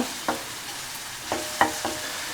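Vegetables and garlic fry in fat in a pan, a steady close sizzle broken by a few sharp scraping stirs of a utensil against the pan.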